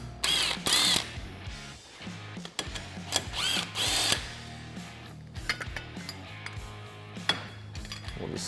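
Brake caliper bolts are worked loose on a Polaris RZR XP Turbo with a hand ratchet, giving close, loud bursts of ratcheting clicks and metallic clanks with brief pauses between.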